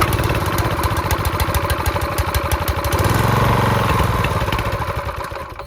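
An Ariens rototiller's small engine, freshly fitted with a reinstalled carburetor, sputters to life outdoors and keeps running with a rapid, steady, loud chugging that swells briefly midway before easing off, with no voices.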